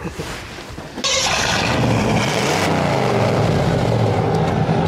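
A Chevrolet Silverado K1500 pickup with a V8 engine cranks and fires after a brief moment, then settles into a loud, steady, rumbling idle close by.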